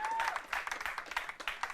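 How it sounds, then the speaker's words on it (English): Audience applause for contestants at a university law quiz competition final, a steady wash of many hands clapping over nearly two seconds, moderately loud with a faint tone near the start. "A round of applause"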